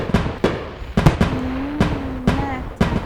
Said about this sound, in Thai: พลุแต่ละแบบนี้จะไม่เหมือนกันนะครับเพื่อนๆแต่ว่าหนึ่งอันแค่หนึ่งแบบนะครับ